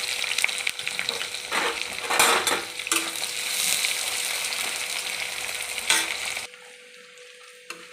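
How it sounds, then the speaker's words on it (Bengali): Onions frying in a wok with dried chillies, a loud continuous sizzle with stirring scrapes and metal clinks of a spatula, then a sudden drop to near quiet near the end. "পেঁয়াজটি আমার বাদামি কালার হয়ে গেছে ভাজা"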